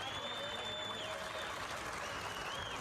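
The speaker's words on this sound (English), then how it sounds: "Here's the officers applauding the people who knocked down the 75-year-old man" Scattered applause from police officers at an outdoor scene, steady broadband clapping with a faint high whine running through it, moderately quiet and distant.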